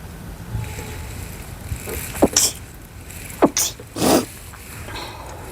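A few short, muffled sneezes, deliberately suppressed, come in quick succession against quiet background noise near the microphone.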